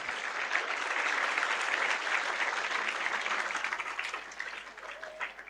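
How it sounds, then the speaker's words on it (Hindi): A school audience applauds steadily for several seconds, a dense wash of clapping that stays loud before thinning slightly toward the end. "हमारे आदरणीय कश्यप जी के लिए ताली बजाएं।"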